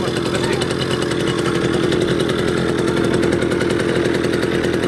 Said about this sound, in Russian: Не бойтесь газовать. Надо больше газовать.